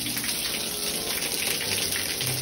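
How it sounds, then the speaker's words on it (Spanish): Water gushes steadily into a swimming pool, a continuous rushing, splashing wash that stays even and fairly loud for the whole stretch, with no talking. "está llenando la piscina y todo"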